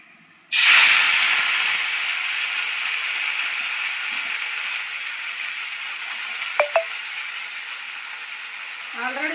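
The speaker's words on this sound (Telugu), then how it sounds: "ముందు కొంచెం నూనె అయితే వేసి గోంగూర అయితే మగ్గబెట్టుకుందామండి" Gongura leaves hit hot oil in a pan with a loud, steady sizzle that starts abruptly and hisses on without pause, broken only by a couple of brief clicks near the end.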